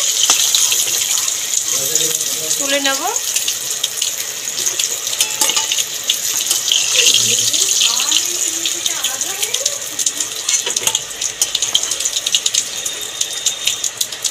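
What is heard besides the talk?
fish heads frying in hot oil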